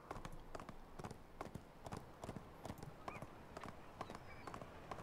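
A donkey in the ArcheAge video game clip-clops along in a steady, even rhythm of hoof falls, moderately quiet with a low background hum underneath.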